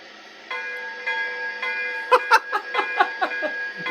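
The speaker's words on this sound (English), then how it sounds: "And now we have the swinging bell." A toy steam locomotive's swinging bell clangs in a quick, regular series of bright strikes over a steady mechanical hum, close and moderately loud.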